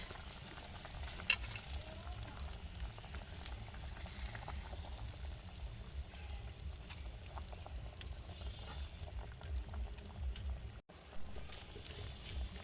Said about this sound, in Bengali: ঝোলটা ভালো মতন ফুটে গেছে, তাই আমি দিয়ে দেবো এর মধ্যে মাছ।